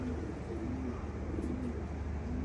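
Soft, low pigeon coos repeat a few times against a steady background hum, faint and somewhat distant.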